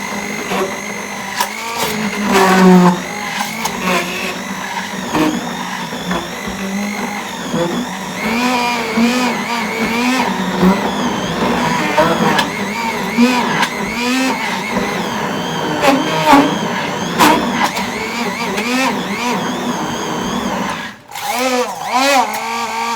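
Handheld blender crushing big ice cubes for a smoothie, running continuously with a loud whining motor and rattling, grinding crunches that shift in pitch as it bogs and frees, stopping briefly near the end before restarting.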